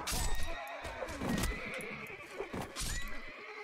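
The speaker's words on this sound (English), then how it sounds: "Kill all these filthy horses." Horses neigh and whinny amid hoof clip-clop during a battle in the video game Mount and Blade: Warband, several loud calls overlapping with busy combat noise.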